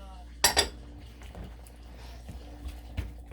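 Clinks and scrapes of a utensil against a bowl while karaage chicken is mixed with potato starch, a sharp double clatter early on followed by softer scattered taps and shuffling.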